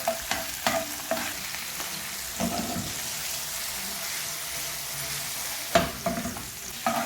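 Garlic ginger paste frying in three tablespoons of oil gives a steady close sizzle, broken by several sharp scrapes and clacks of stirring, with a louder burst of scraping near the end.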